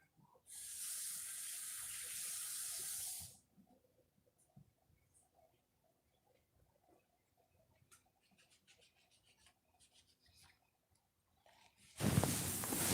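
A tap runs in a steady hiss for about three seconds and then shuts off, followed by quiet faint clicks and small handling noises, before water gushes again at the very end.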